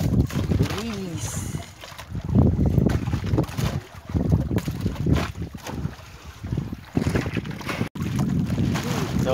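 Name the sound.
boat engine running at night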